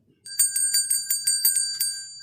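A bicycle-style bell rings alone in a quick run of about eight bright, evenly spaced metallic dings, loud and close, with no voices.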